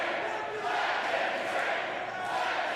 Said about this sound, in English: A let him drink chant has erupted from the crowd here, the DOA faithful.